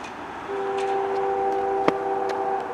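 A CN M382 freight train approaches, its horn sounding as a steady two-tone blast at a moderate distance over a low rumble, with a sharp click partway through and no talking.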